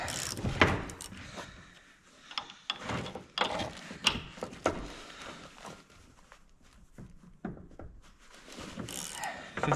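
A wrench ratchets and clanks while bolts on a John Deere 450B dozer engine are tightened, with irregular metallic clicks, taps and knocks at close range and some movement around the work.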